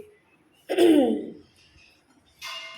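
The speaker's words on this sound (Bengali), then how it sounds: "ঠান্ডা গরমে ঠান্ডা লেগে যাচ্ছে কাশি হচ্ছে" A person with a cold gives one short, harsh cough or throat-clearing, close and fairly loud, followed by a quieter breathy sound.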